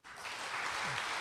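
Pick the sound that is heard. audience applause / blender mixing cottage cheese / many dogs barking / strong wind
audience applause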